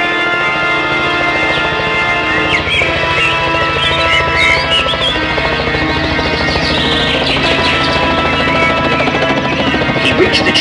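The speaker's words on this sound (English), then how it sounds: "Soon, Harold was whizzing to the rescue" A rescue helicopter flies close by, a loud, continuous rotor drone and buzzing whine that holds steady throughout, with faint bird-like chirps above it.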